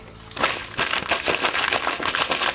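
A voice mimics crunching through a bag of potato chips, a short burst of crackly, crinkly crunching noises after a brief quiet start, close and fairly loud.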